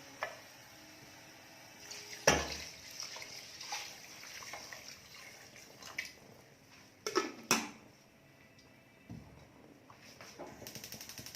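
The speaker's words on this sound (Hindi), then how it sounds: "इसमें पानी शामिल करके साथ में चावल शामिल कर दूँगी।" Water and rice going into a cooking pot for Punjabi-style chicken pulao, with pouring, splashing and a couple of sharp clinks of utensils against the pot, fairly quiet and close, with no talk.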